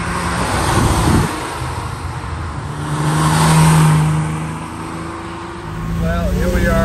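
A restored 1966 Ferrari 330 GT 2+2 Series II cruising a curvy back road, its engine a steady drone that swells and eases with the bends, heard from inside the cabin with a person talking over it.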